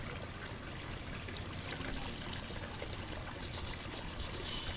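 Pool chemical CV700 poured into pool water, a steady continuous liquid stream splashing close up for the whole stretch, with no talking over it.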